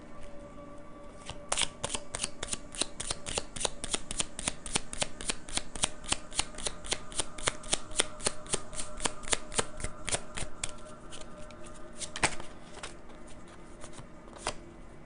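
Tarot cards are shuffled in a rapid run of crisp riffling flicks. The flicks slow toward the end, and a single card is drawn.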